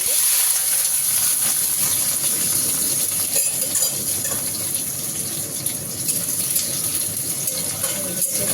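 Ingredients stirred in hot oil give off a steady, close hiss and sizzle that runs unbroken for the whole stretch, with no voices.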